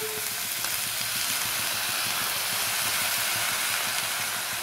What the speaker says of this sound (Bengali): সমস্ত আনাজগুলো দু তিন মিনিট তেলের ওপর নাড়াচাড়া করে এবারে আমি শাকটা দিয়ে দিচ্ছি।